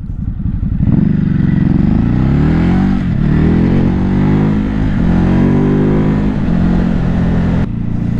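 A Ducati Hypermotard 950 motorcycle engine pulls hard from low revs, loud and close, its pitch climbing through several surges as it accelerates, then dropping off sharply at the end.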